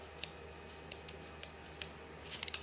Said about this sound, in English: get yourself a 2 foot piece of parachute cord, cut it and burn it on both ends